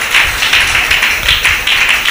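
A church congregation claps together in steady, rhythmic applause for several seconds, loud and close, with no talking over the claps.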